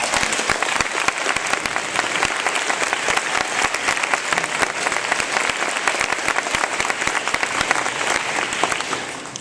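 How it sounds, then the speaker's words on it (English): At a lyceum event about the USS Colorado submarine, a crowd claps in a loud, dense, steady round of applause that holds evenly for several seconds. "So a round of applause to them."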